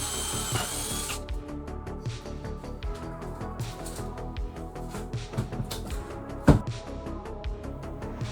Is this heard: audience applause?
no